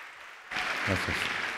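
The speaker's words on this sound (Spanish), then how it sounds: "Fuerte el aplauso para recibir al señor Hernán Morano." Applause suddenly breaks out from a summit audience after a brief quiet moment, a dense wash of clapping that stays loud and steady.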